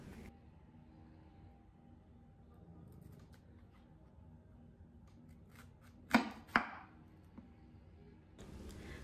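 A knife cuts through a head of cauliflower into thick steaks, giving two sharp crunching chops close by against a quiet room background, then faint handling noises.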